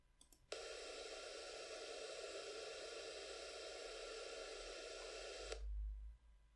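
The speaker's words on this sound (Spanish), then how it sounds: "y ruido café." Steady brown noise synthesized in Wolfram Mathematica, a continuous deep rushing hiss that starts abruptly, holds evenly for about five seconds and cuts off sharply, followed by a low rumble.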